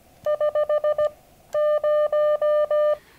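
An electronic keyer worked with paddles sends Morse code as a clean steady tone: a quick run of six short dits, then a pause and five longer dahs, crisp and close.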